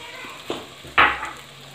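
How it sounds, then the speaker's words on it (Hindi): Yogurt poured into a hot pot of chicken gravy sets off a short burst of sizzling and frying, with a sharp hiss about midway that fades to a low simmer. "अब मैंने डाल दिया जी इसमें दही"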